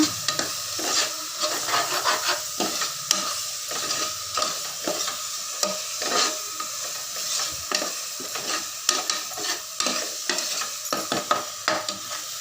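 Chili and coriander powder stirred into hot oil in a pressure cooker for chicken biryani, with a constant sizzle and rhythmic, close scraping and tapping of a spoon throughout.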